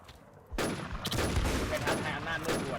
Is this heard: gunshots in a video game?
yes